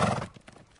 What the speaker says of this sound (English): Yes, a horse.